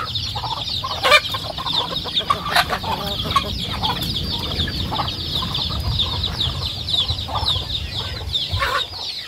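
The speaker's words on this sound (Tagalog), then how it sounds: "Yung mga manok natin ka-farm, oh, naghahanap na ng pagkain." Farm chickens cluck continuously as they forage for food outdoors, with many birds close by and scattered louder squawks. No one speaks.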